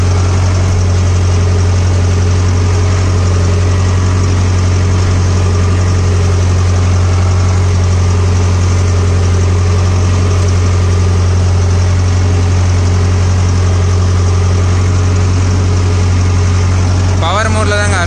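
A Mahindra Novo 605 DI CRDI 60 HP tractor engine runs steadily in power mode, a loud continuous low-pitched diesel drone with constant vibration throughout, ending with a brief shift near the close.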